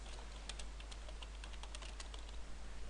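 Quick, light clicks of computer keyboard typing, an irregular run of close, faint keystrokes over a steady low hum.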